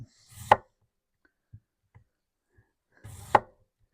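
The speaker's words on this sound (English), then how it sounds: "I just slice it kind of thin, and then I'll just make little chunks out of it" A knife cuts through a potato on a board, two distinct close chopping thuds a few seconds apart with faint small taps in between.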